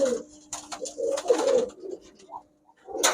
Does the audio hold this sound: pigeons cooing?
yes